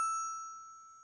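A single Montessori bell is struck once during a matching game, a clear bright ding with a pure sustained ring that slowly fades, heard alone.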